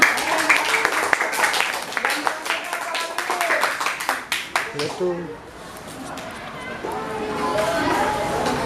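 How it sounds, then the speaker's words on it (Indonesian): A classroom of people claps briefly and unevenly, then the clapping fades into chatter and background voices. "Oke, kasih tepuk tangan."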